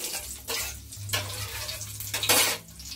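Cumin seeds sizzling in hot oil in a home kitchen pan while cooking an egg and potato dish, a steady close frying hiss with brighter crackling bursts and a low hum underneath, no talk.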